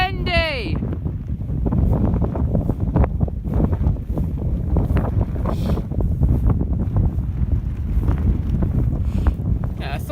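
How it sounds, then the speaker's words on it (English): High winds buffeting an MLD Trailstar shelter: continuous loud gusting roar with flapping fabric, close to the microphone, and a brief whistling tone at the start. "It's bloody windy!"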